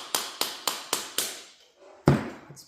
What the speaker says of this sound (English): Beating on it with a hammer.